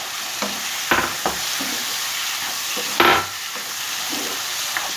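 Tomatoes go into a pan of frying turmeric and chili for aloo methi. A steady sizzle is broken by a couple of sharp stirring scrapes and a louder hiss as the ingredients hit the hot oil.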